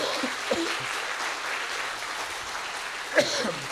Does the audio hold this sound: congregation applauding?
yes